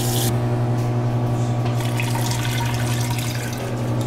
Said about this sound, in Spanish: ahora Sergio va a agregar un galón de agua fría